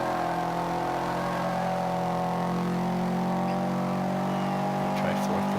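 In the Forza 5 racing game, an AWD car's engine holds a sustained high whine at speed, steady and fairly loud, with faint clicks near the end.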